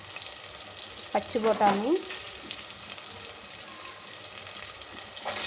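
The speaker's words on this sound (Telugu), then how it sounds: "ఇది బాగా ఆయిల్లో మంచిగా ఫ్రై అవుతున్నాయి." Vegetables fry in hot oil for a veg pulao, giving a steady close sizzle throughout, while a voice speaks briefly over the cooking early on.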